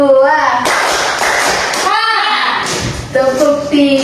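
Students in a class clap in two short bursts of many hands at once, dense and loud, between stretches of spoken instruction.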